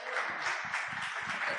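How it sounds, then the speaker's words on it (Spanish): An audience at a church gathering claps in a brief, dense round of applause, soft and fairly distant, sustained evenly for a moment. "un aplauso a eso"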